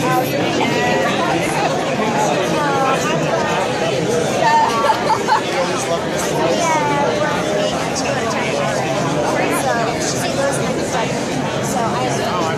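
Dense, steady babble of many voices fills a packed conference room, overlapping conversations forming a continuous loud hubbub with no single speaker standing out.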